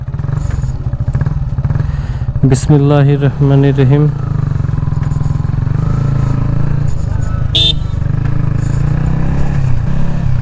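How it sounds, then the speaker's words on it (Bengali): A Yamaha XSR 155 motorcycle engine idles steadily throughout, with a short rev rising and falling near the start, while someone speaks over it at close range. "বাইকটা স্টার্ট করার পরে সাউন্ডটা খেয়াল করতেছেন?"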